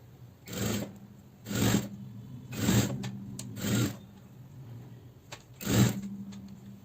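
A sewing machine stitches a doubled strip onto a jacket in five short bursts of running stitches, separated by pauses over a steady low motor hum, close and without talk.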